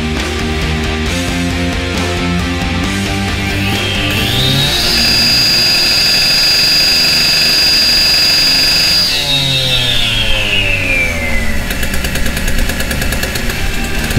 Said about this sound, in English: We notice that the machine limits its revs per minute.